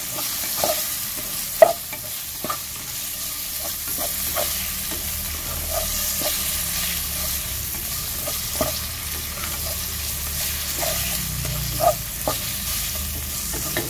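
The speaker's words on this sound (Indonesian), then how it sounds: "Ya udah, kita tumisnya kayak gini aja." Sate Padang meat sautéed in a pan, a continuous sizzle under repeated sharp scrapes and clacks of a spatula stirring at irregular intervals, close and moderately loud with no talking.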